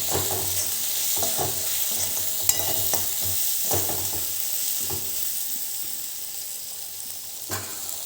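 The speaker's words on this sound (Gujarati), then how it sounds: "હવે આને એક વખત મિક્સ કરી લેવાનું" Spoon stirring turmeric, red chili powder and coriander-cumin powder in hot oil in a frying pan for green dal, with steady sizzling and a few scraping strokes throughout, no talking.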